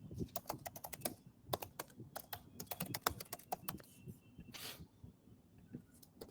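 Rapid, uneven typing on a computer keyboard, close and clear: bursts of crisp key clicks with brief pauses between runs, heard alone without any talk.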